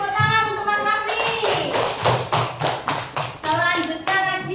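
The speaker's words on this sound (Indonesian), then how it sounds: "Kasih tepuk tangan untuk Mas Rafli" Young second-grade pupils in an Indonesian classroom clap together for a classmate, a burst of loud, slightly ragged applause that fades out, with children's voices before and after it.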